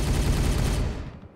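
Gunfire in the video game Warhammer 40K Regicide: one loud, dense burst of shots that rumbles and then fades out within a second and a half.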